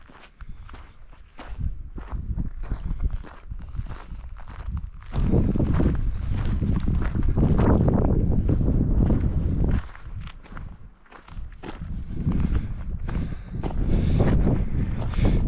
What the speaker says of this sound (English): I'm going to walk down here 200 or 300 yards to that other campsite